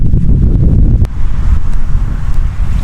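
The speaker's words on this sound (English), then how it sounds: "Oh my god, with this wind," Strong wind gusting on a Hawaii beach at sunrise, a loud continuous low roar buffeting the microphone, with faint surf beneath and no voices.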